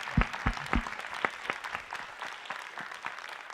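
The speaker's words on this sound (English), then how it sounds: "And a nice round of applause for our panelists." An audience applauds the panelists at a community discussion event, beginning with sharp close claps that thin into scattered, fading clapping.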